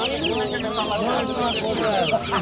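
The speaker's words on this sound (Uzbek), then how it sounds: "25 kunda bo'pti jo'jalarimiz mana" Twenty-five-day-old chicks at a poultry bazaar in Namangan, Uzbekistan fill the air with a thick, constant chorus of high peeps and chirps, close and loud, with a few clucks among them.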